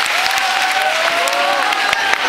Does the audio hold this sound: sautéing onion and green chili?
no